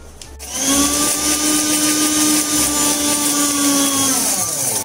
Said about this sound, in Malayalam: റസ്ക് ഒന്ന് പൊളിച്ചെടുക്കാൻ അതൊന്ന് ചെറുതായിട്ടൊന്ന് ആക്കിയിട്ട് വേണം നമുക്ക് മിക്സിയിലിട്ടൊന്ന് അടിച്ചെടുക്കാൻ